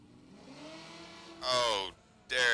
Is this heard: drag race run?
yes